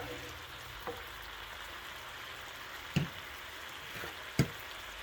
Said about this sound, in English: I will let it simmer for about a minute or two